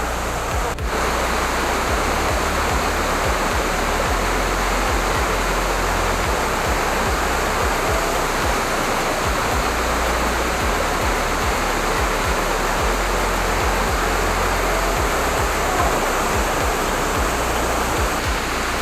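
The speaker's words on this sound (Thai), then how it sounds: "ถึงแล้วครับน้ำตกเจ็ดคดเหนือนะครับ" The Jet Khot Nuea waterfall in Saraburi roars loudly and evenly, a dense continuous rush of cascading water heard up close, with a faint low rumble underneath and no speech.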